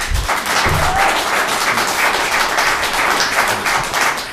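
Applause at a city council meeting in Paris, a roomful of people clapping steadily and loudly for several seconds with little talk beneath.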